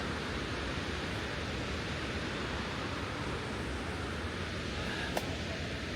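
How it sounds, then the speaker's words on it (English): Nugget Falls waterfall rushes in a constant broad hiss on a rainy day, steady and unbroken, heard from some distance with no talk. "And here we have Nugget Falls."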